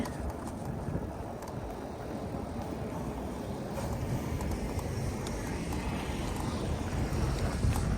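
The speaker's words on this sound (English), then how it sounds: "the wind is cold on my face" Steady wind rushing past the microphone while riding a Vitilan i7 Pro eBike through downtown Columbus, Georgia, a continuous roar that builds slightly louder toward the end.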